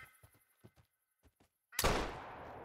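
A single loud, close hunting rifle shot in the Call of the Wild hunting game rings out abruptly after soft footsteps and faint ambient sounds, its sharp crack trailing into a fading echo.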